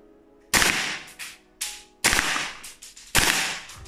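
A KSC M93R2 heavy-weight airsoft pistol fires in burst mode, giving four sharp, loud bursts of rapid cracking shots separated by short pauses, close to the listener.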